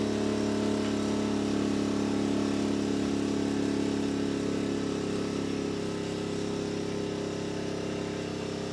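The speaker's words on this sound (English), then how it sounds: "The generator's ramping down now." A portable generator engine drones loudly and continuously under load, close by, its pitch and level easing slightly in the later seconds as it begins to ramp down.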